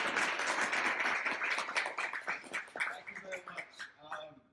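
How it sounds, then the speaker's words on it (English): Audience applause welcoming a speaker at a talk, dense clapping that thins into scattered individual claps before dying away. "I please ask you for a round of applause in introducing our speaker"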